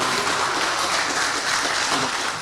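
A conference audience applauds steadily, a dense wash of clapping hands filling the room without pause.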